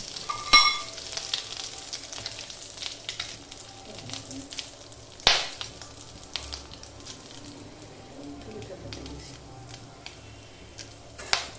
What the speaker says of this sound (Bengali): এরপর তেলে এলাচটা খোসা থেকে বের করে দিতে হবে, সাথে দারচিনি লবঙ্গও দিলাম।